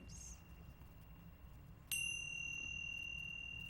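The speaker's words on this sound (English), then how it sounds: "Feel the vibration of the sound of the chimes." A single bright chime rings out clearly and lingers with a long, shimmering sustain over a faint, hushed background.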